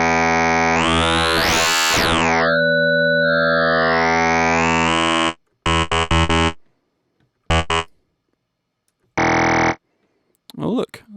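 An FM synthesizer with a sine oscillator and inharmonic wavetables first holds a long, warbling, gliding tone, then stutters out short bubbly bursts separated by silences. A faint sound is heard at the very end.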